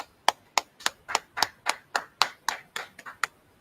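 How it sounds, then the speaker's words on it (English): At a religious law class gathering, hands clap in an even rhythm, with about a dozen sharp, close claps evenly spaced and no talking over them. "Clap it up, clap it up."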